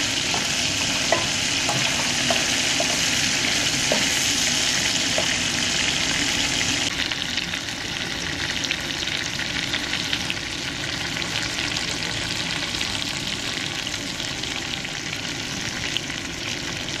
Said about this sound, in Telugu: ఈ రొయ్యల్ని రెండు వైపులా తిప్పుకుంటూ నూనెలో బాగా ఫ్రై చేసుకోవాలి.